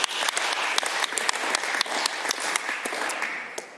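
Legislators in the Alberta Legislative Assembly applaud steadily, a dense, sustained clapping from many hands filling the chamber throughout with sharp individual claps popping out on top.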